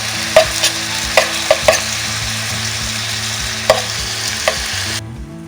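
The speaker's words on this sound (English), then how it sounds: "add in the tomatoes and let them saute for about 4 to 5 minutes until they turn mushy" Tomatoes sauté in a hot pan with a bright, even sizzle, while several knocks and scrapes ring out as a spoon stirs them. The sound stops abruptly near the end.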